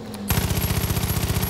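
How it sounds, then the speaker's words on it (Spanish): Rapid automatic gunfire from the video game Far Cry 5 cuts in suddenly after a brief low tone, then continues as a dense, loud burst of evenly spaced shots. "Pero alguien viene, escucho disparos."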